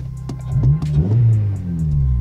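A Honda FA5 Civic pulls away, its engine revving up and then easing off, heard close from inside the cabin with a low rumble and no talk.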